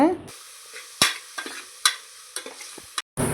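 A spoon scrapes and taps against a pan as thick masala with turmeric and salt is stirred for mutton bone soup, with a soft sizzle of frying underneath.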